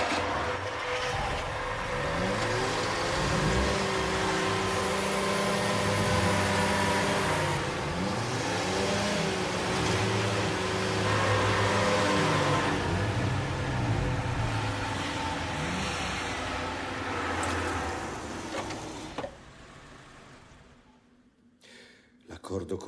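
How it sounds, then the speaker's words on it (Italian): Several Ferrari racing car engines, in a 2003 film about Enzo Ferrari, run together in a loud, continuous roar with repeated rising and falling revs for about nineteen seconds before dying down. "voglio che accendiate tutti i motori."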